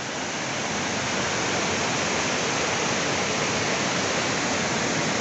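A loud, constant roar of a strong river current after heavy rain at Serra Azul Velho, Palmares, Pernambuco, dense and steady like a powerful waterfall close by, with no voices.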